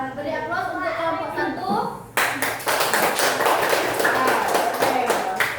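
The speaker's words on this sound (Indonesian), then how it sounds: "Beri aplaus untuk kelompok" A classroom audience applauds a student group after a class discussion, with a spoken lead-in followed by a sudden burst of sustained, close clapping from many hands that continues steadily to the end.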